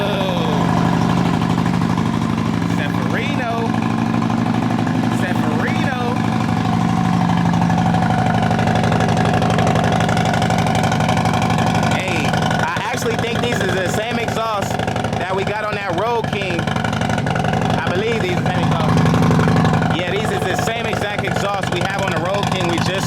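A cammed Harley-Davidson motorcycle from Copart idles after its first start, a loud, steady, loping rumble throughout while people talk over it.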